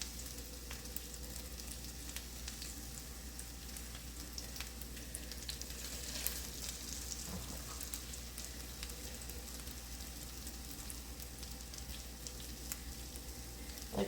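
Salmon fillets frying in a pan on the stove, a steady close sizzle and spatter with occasional crackles, continuous and even throughout, no talking.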